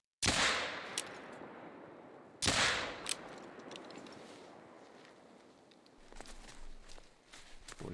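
A rifle gunshot in the hunting video game theHunter: Call of the Wild, a sharp loud crack with a rolling echo, followed by a second shot about two seconds later and faint rustling afterward.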